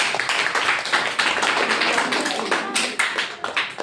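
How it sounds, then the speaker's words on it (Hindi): A classroom of children claps together for a correct answer in a Hindi lesson: a brief, busy burst of many small hands slapping in a loose, uneven rhythm, fairly close and filling the room. "ताली बजाइए एक बार।"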